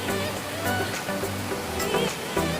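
Chandandhara waterfall at Jharigam rushes as a dense, steady roar of falling water. The sound fills the short stretch at even loudness, with faint voices underneath.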